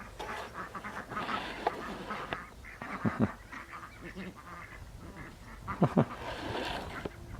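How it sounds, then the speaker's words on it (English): Ducks or geese give a few loud honking quacks close by, in short bursts around the middle and again near the end, over a constant outdoor background hiss with scattered clatter. "The ducks are coming closer."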